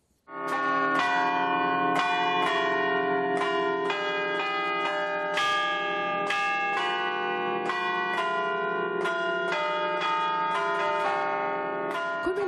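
A church bell in Italy rings after mass, sounding more than a dozen loud, evenly spaced strikes whose rich metallic tones overlap and hum on between hits.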